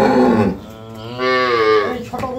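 A dairy cow on an agro farm in Dinajpur gives a single long, loud moo close by, rising and holding steady before trailing off, with no talk over it.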